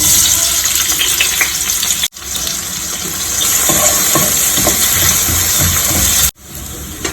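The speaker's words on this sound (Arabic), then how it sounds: "هنزل بالطاسه بتاعتي، احط شويه زيت، هنزل ببصلايه متقطعه جوانح" Chopped onion fries in a little oil in a home pan, a loud, close, steady sizzle with faint stirring scrapes, cut off by two brief silences.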